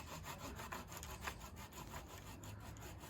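Garden tree branches are sawn by hand during spring yard cleanup, a steady rhythmic back-and-forth rasp of the blade through wood, close and moderately quiet, with no talking.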